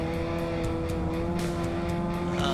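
Dirt track race car engine at Montpelier Motor Speedway holds a loud, close, droning roar with a steady buzzing tone under hard throttle during a heat race.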